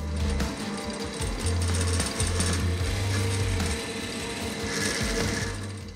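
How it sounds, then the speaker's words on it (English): A drill bores tuner holes through a symmetrical guitar headstock, giving a loud, steady whirring and grinding that runs the whole time with short dips between bursts and no talking. "Drilling out the tuner holes, fairly straightforward."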